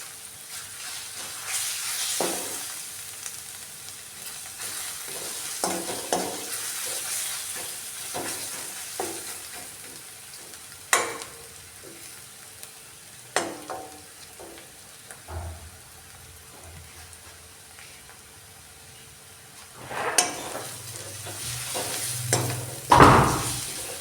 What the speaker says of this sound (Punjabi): ਲੱਗ ਤੜਕਾ ਤੜਕਾ ਲੱਗਣ ਡਿਆ